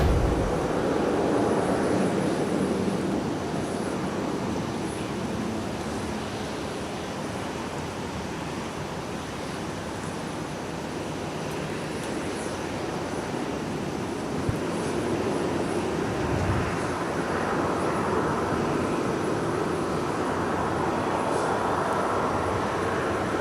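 A Delta Airbus A350-900 at Minneapolis–St. Paul Airport, heard as a steady, loud, broadband jet engine roar that holds throughout, with no voices.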